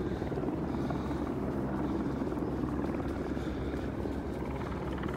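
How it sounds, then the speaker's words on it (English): A steady, continuous rotor drone of helicopters overhead in Los Feliz, Los Angeles, loud and unbroken for the whole stretch. "so there's helicopters everywhere."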